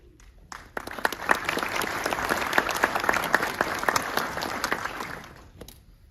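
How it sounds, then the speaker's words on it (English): Audience at a military flying training wing graduation ceremony breaks into applause, a swell of many hands clapping that builds quickly, stays full and bright for several seconds, then tapers off. "If you would all join me in a round of applause for Togo Robertson, our MC for this evening."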